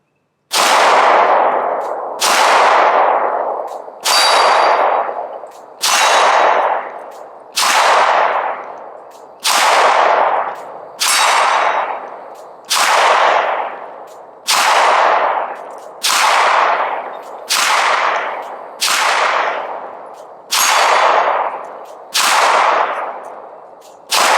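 A Glock 19 pistol fires about fourteen loud, sharp shots in a steady, evenly spaced rhythm, each crack ringing out and decaying before the next.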